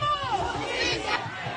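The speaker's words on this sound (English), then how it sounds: "a large crowd marching through the city in protest of another ICE-involved fatal shooting" A large crowd marching through Houston streets at night in protest, a dense roar of many voices and shouts close by and loud, with chanting-like swells throughout.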